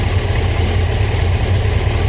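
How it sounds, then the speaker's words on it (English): A cheap motorcycle engine with carburetors runs steadily as it warms up, a loud continuous low idle rumble held even throughout without revving. "So I'm going to start the bike up, let it warm up, and then we'll start checking them."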